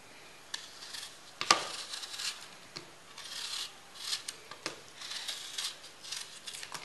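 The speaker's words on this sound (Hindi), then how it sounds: "सबसे पहले हम एप्पल को छीलते हैं" Apples being peeled with a peeler for apple murabba, a series of close, quiet scraping and rasping strokes in an irregular rhythm, with occasional light clinks.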